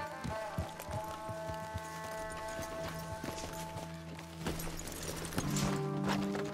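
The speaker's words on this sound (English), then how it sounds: "Let's leave the horses off the road to the right here." Horse hooves clip-clop in Red Dead Redemption 2 as horses are led off a road, giving a steady run of close hoof thuds over game ambience and low tones.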